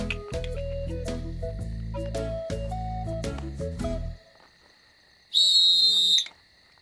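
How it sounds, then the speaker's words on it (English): A whistle is blown in a children's outback cartoon, a single loud, bright, steady high blast lasting about a second after a stretch of music and a brief quiet pause. "Ned had never had a whistle before, and he was very pleased to have one now."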